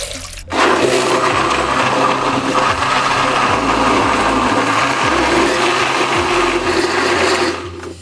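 A blender whirs loudly and continuously, its motor churning thick soup with fresh garlic and water at a steady pitch before cutting off near the end.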